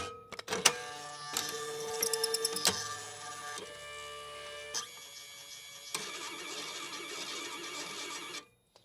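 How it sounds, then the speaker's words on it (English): A TNA Robag3 Intellidate+ printer with a calibration fault clicks and whirs as its ribbon motors spin the wrong direction, moving through several stretches of rattling, humming and buzzing motor noise before stopping abruptly; close and loud, no voices. "that noise at the end of that is the motors on the ribbon motors spinning the wrong direction"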